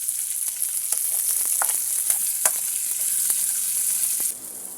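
Chili sautés in a pan with a continuous crackling sizzle, punctuated by light clicks and scrapes of stirring, with no talking.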